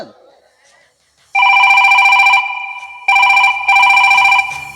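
A telephone rings for an incoming call in a Kannada village comedy stage play, loud electronic trilling bursts in three separate rings with short gaps, close and clear, with faint voices before the first ring.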